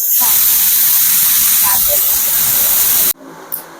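A pressure cooker cooking khichdi in a village kitchen lets off a loud, continuous hissing blast of steam for about three seconds, then cuts off abruptly, leaving a quieter background with a brief faint squeak.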